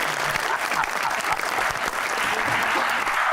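A studio audience applauding at a talk show, a dense and steady round of clapping that stays loud and close throughout, with no one speaking.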